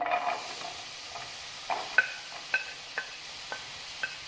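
Finely chopped onions added to oil in a pan, frying with a soft sizzle while a spoon stirs and scrapes in several distinct strokes, close but fairly quiet.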